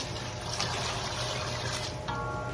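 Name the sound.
water being poured into a pot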